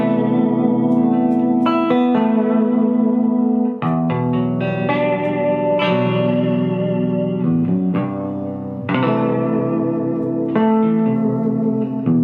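Electric guitar with flatwound strings, three pickups, heavy reverb and the tone turned up, played in sustained chords and single notes with an ambient, effects-laden wash; loud and continuous across the passage.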